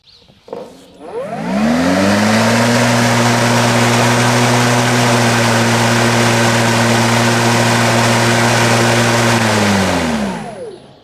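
Steady, loud motor whine of a Sun Joe 40-volt iON 16LM cordless electric lawn mower, reconditioned, running on concrete at medium cutting height, spinning up, holding a constant pitch, then winding down.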